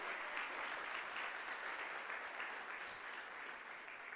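A church congregation applauds together during a service, a fairly quiet but sustained wash of clapping that holds steady and slowly eases off, with no speech over it.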